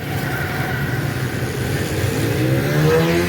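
A motorbike engine runs steadily at close range on a street in Pakistan, its low throb rising slightly in pitch toward the end as it revs, with no one talking.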